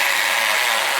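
A power drill bores roughly through an amplifier's metal front panel, a loud, continuous grinding whine held steady for about a second with no pauses.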